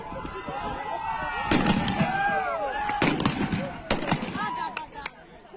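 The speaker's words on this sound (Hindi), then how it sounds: "ये आमने सामने की फायरिंग का वीडियो देखिए।" Gunfire exchanged during street clashes between Iranian forces and protesters in Kermanshah province, Iran: several sharp cracking shots spaced a second or so apart, fairly close, over a noisy crowd with shouting voices.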